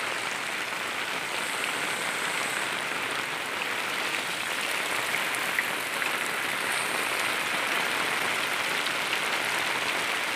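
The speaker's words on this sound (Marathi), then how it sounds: "पुन्हा धुकं पाऊस पडतोय." Steady rain falls over a rice-planting area in the Konkan countryside, with hills and fog nearby. It makes a dense, even hiss that continues for the whole stretch, with no voices and no clear individual drops.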